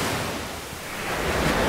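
Surf washing onto the shore of Guimaras Island in the Philippines at high tide, a steady broadband wash of waves that swells slightly toward the end, with no voices.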